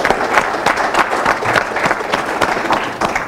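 An audience applauds loudly and close, a thick wash of many clapping hands with a slightly pulsing rhythm, continuing evenly for a few seconds.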